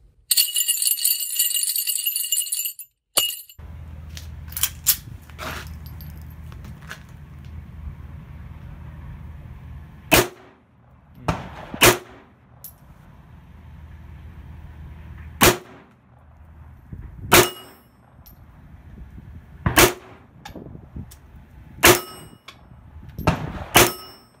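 Colt 1903 Hammerless .32 ACP pistol firing at a steel target: a burst of noise, then about a dozen sharp shots spaced a second or more apart, several followed by a ringing metallic clang, over a low idling hum.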